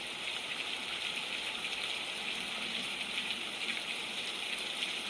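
Steady, dense rain hiss on a very rainy day, an unbroken wash of falling water with no voices.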